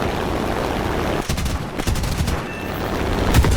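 Wing cannons on an F6F-5N Hellcat fighter blaze away in a flight combat game, loud dense bursts with brief gaps, over steady engine drone.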